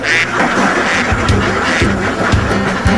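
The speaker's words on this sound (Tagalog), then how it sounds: "Maingay at putak ng putak ang mga itik at bibe." Ducks quacking noisily and repeatedly, several birds close together in an overlapping chorus.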